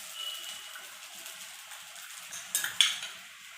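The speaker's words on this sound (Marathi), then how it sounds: "छान मिक्स करून घेऊया।" Sabudana khichdi being stirred in a pan, a soft scraping and clinking of a spoon against metal, quiet and close, with a couple of sharper taps near the end.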